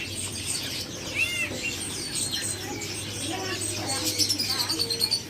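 Small birds chirping and tweeting at the Pramuka bird market in Jakarta, several thin high calls and trills over a busy background hum, with a quick burst of chirps near the end.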